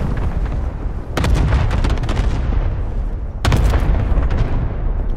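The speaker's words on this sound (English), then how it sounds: "Cluster strike is active." Cluster airstrike explosions in Call of Duty Modern Warfare: two bursts of heavy booming blasts, each a rapid run of deep detonations that rolls on, loud and close.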